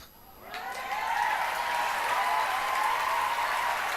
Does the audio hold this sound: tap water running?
no